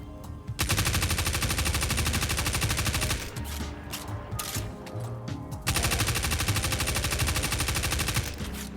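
A Multimach submachine gun in Destiny 2 fires at 900 rounds per minute from a 37-round magazine. It sounds like two long, loud, sustained streams of rapid automatic fire, separated by a brief reload pause with clicks, and no talk.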